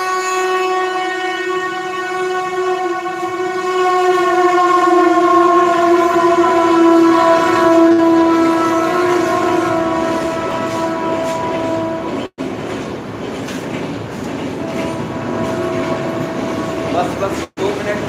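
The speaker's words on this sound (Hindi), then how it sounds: "ट्रेन जा रहा है, ट्रेन को जाने दीजिए, बहुत डिस्टर्बेंस क्रिएट हो रहा है।" A train rumbles by outside with its horn sounding loud and sustained for several seconds, followed by continuous rolling rail noise and clatter, heard through a room with no talking.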